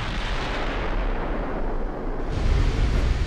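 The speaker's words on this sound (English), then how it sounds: "I think a shell just ricocheted off the port side" A naval shell strikes and glances off a battleship's port side in Ultimate Admiral: Dreadnoughts, a deep, heavy boom rising out of a steady rumbling wash of battle noise toward the end.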